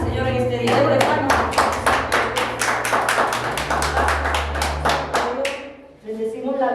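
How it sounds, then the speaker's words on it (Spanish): A church congregation claps in a quick, even rhythm of sharp, close, loud claps that run for several seconds. Singing or music sounds underneath, and the clapping stops near the end. "démosle palmas."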